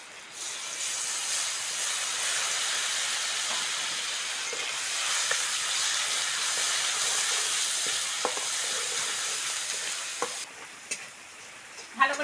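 A paste of cumin, ginger and green chili fries in hot oil with a loud, even hiss and sizzle that lasts for several seconds, then thins out into a few light clicks of a utensil near the end.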